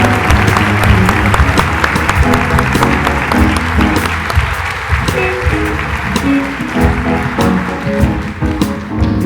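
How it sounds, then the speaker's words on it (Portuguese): A church congregation applauds its new members at a tenth-anniversary celebration, loud sustained clapping from a crowd with a few cheers and voices mixed in, close and steady throughout. "Que tal uma salva de palmas para os nossos novos membros da nossa igreja?"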